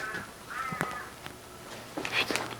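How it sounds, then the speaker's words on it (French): Crows cawing in an empty, eerie house setting, a few harsh calls spread across the moment amid faint room noise and light movement, moderately distant and not very loud. "Il y a des oiseaux qui font flipper."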